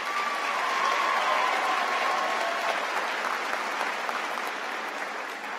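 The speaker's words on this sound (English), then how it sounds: "You can give her a round of applause again." Audience at a university graduate commencement giving a sustained round of applause, a dense, even roar of many hands clapping at once that holds steady and eases slightly toward the end.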